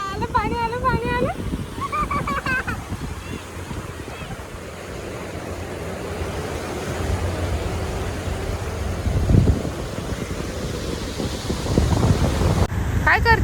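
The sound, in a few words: sea waves washing in at Juhu beach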